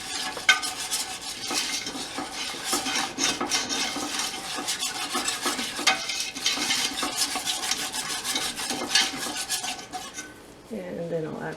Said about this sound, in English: and whisk it up